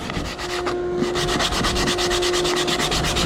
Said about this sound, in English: go a few strokes through there. Check for grooves.